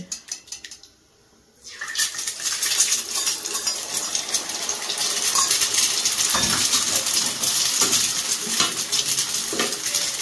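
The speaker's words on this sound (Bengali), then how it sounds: "এবার আমি ডিমগুলো একটুখানি ভেজে নেব।" Eggs hit hot oil in a small wok and fry with a steady close sizzle, broken by occasional metallic clinks of a utensil against the pan.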